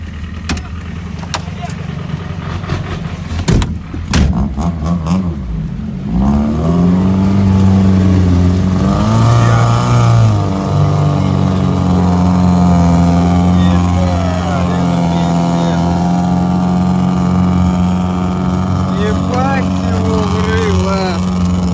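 Lada Niva fording a river, its engine revving hard and straining at high load through the water after some splashing and knocks at the start, loud and close with people shouting over it.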